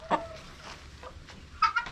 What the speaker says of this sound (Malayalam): അല്ല അടിപൊളി കോഴികളാട്ടോ.